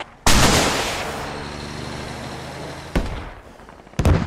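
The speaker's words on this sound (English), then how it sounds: "Hab. Mortars out." A mortar battery in the military shooter Squad fires one loud, sharp launch that booms and slowly fades, followed by a second thump and a third close blast near the end.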